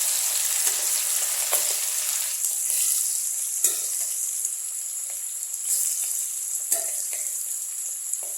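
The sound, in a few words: chicken frying in pan for chicken chukka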